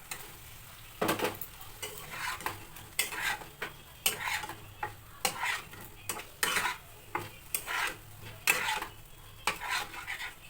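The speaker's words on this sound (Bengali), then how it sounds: "এবার দিয়ে দেবো ভাজা আলু।" A spoon scrapes and stirs fried potatoes in a pan with red chilli, turmeric and a little sugar, giving a steady rhythm of sharp metallic scrapes over a soft sizzle, close up and with no talking.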